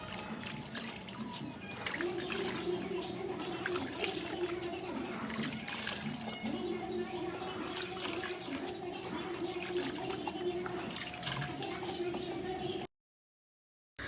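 Wheat grains are washed by hand in water at home, producing a continuous close trickling and sloshing for about thirteen seconds before the sound cuts abruptly to silence.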